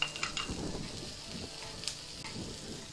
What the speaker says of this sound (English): Now you want to put the finely chopped garlic in. And with the finely chopped shallot.